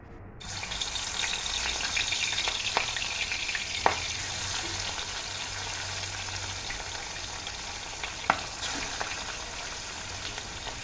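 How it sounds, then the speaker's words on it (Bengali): Fish fries in hot oil in a kadai, a steady, even hiss of sizzling with a couple of sharp isolated clicks, close and moderate in level, no talking. "প্রথমে মাছটা ভেজে নিই"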